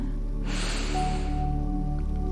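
Deep meditative breathing, a single strong nasal inhale or exhale rushing in over a steady low drone and background water-like hum, close and fairly loud, without speech.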